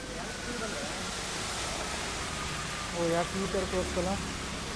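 Heavy rain pours steadily onto city streets in Bengaluru, a dense, loud hiss of downpour throughout, with a low rumble and a brief tonal vehicle horn near the end.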